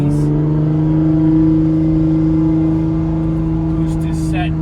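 A Nissan R35 GT-R with full bolt-ons, E85 fuel and a valved exhaust drones loudly from inside the cabin, a steady deep engine tone that stays level throughout without any clear rise in pitch.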